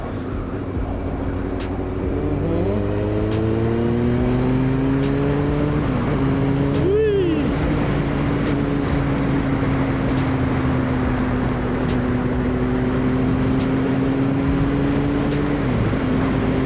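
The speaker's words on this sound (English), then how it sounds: "today I'm just having a little ride, enjoying the scenery, a little bit of throttle therapy out here" Kawasaki Ninja ZX9R motorcycle riding along an open A-road, a loud continuous engine drone close to the rider, with the pitch rising and falling through throttle changes and wind rush underneath.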